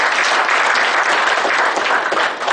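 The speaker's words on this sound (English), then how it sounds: "Once again, I request all of you to give me a big round of applause." Loud, dense applause from a large audience, a continuous wash of clapping that stays strong throughout and eases slightly at the very end.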